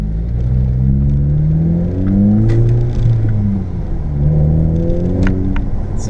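A Volkswagen GTI with a Megan Racing Drift Spec exhaust revs up and down repeatedly, its loud, deep growl rising and falling in pitch, with faint background sounds and no talking.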